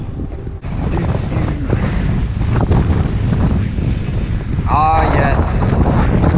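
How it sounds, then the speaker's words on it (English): Strong wind buffets the microphone on a ski mountain, a steady loud roar with gusting rumble throughout, while a person briefly speaks over it near the start and middle. "The wind, we love it. We love the cold and the wind."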